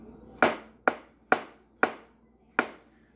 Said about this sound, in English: I'm gonna start chopping the mushrooms.